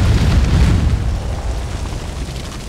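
Bombs exploding against a base in Conan Exiles, a deep rolling blast with heavy low rumble that peaks early and slowly fades into a lingering roar.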